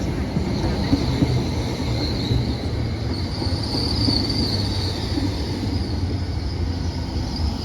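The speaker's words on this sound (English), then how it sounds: "here comes the 1343 Transpennine Express service to Liverpool Lion Street from Newcastle" A Transpennine Express passenger train arriving at a platform rolls in with a steady rumble, wheels squealing high and long as it slows, heard close and continuous for several seconds.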